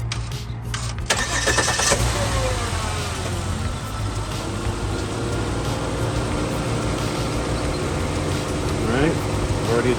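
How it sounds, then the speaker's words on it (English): A car engine cranks and starts with a sharp burst, then settles into a steady loud idle with a brief rev near the end. "Now we're going to turn on the car."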